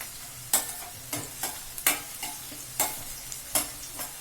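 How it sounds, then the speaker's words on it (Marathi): Chopped onion fries in a pan for pithla, with a soft sizzle under repeated sharp scrapes and taps of a spoon stirring, about every half second. The sound is close and fairly quiet, with no speech. "आता लाईट गुलाबी कलर असा आलेला आहे चांगला फ्राय झालाय कांदा"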